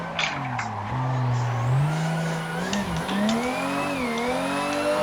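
Toyota Supra engine revving hard with tires squealing through a sustained drift, loud and close, pitch rising and falling continuously with no gaps.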